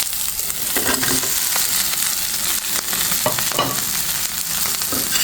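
Fish sizzles with onions in a pan without added oil as it is stirred, a loud close steady crackle and hiss with occasional scraping stirs and no voices.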